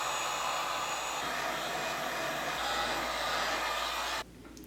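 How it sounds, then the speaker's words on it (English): A heat gun blows a steady, loud rushing whoosh close by while shrinking a plastic ornament beard, then cuts off abruptly near the end, leaving a faint hiss. Nobody speaks. "Now I'm just going to hit it with a little bit of the heat gun just to shrink some of this"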